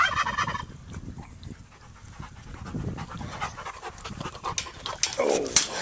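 Puppies pant in quick, uneven breaths close by, with scrabbling and small yelps mixed in and a woman calling out now and then.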